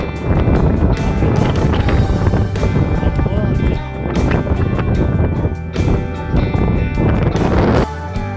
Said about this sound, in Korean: 영축산 정상에 도착하니 엄청난 강풍이 불고 있습니다